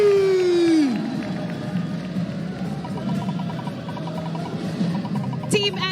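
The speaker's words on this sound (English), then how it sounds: "Let's give a big round of applause for Team" Crowd cheering and applauding for Team SMG at an MLBB M5 World Championship watch party, a steady roar of voices and claps that runs the whole time, with a falling tone at the start and a short electronic chime near the end.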